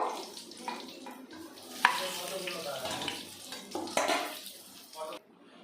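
Pointed gourd and potatoes fry in hot oil in a pan, with soft sizzling broken by sharp clinks and scrapes of stirring, while a person talks over it.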